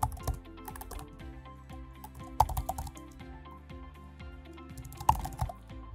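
Computer keyboard typing while naming an entry in a trading-indicator automation setup, with steady rapid keystrokes and a few louder clacks, close and clear, with no talking.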